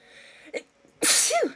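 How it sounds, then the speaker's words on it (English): One sharp, loud sneeze bursts out near the end after a short quiet stretch, preceded by a faint intake and a small vocal sound, with a sliding voiced tail as it finishes. "I have to sneeze, though, first"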